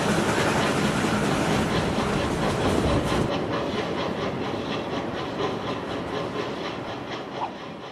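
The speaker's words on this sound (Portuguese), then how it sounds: "Mas agora vamos embarcar no trem do Pantanal em direção a Corumbá." The Pantanal passenger train rolls toward Corumbá with a loud, steady rumble and hiss. Rhythmic clickety-clack of the wheels on rail joints runs throughout, and the sound eases slightly near the end.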